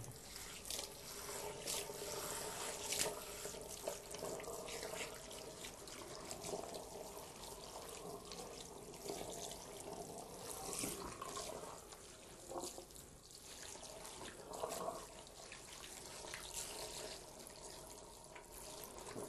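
A salon shower sprays warm water over the back of the head to rinse out shampoo, a steady close hiss with uneven splashing and trickling that runs throughout.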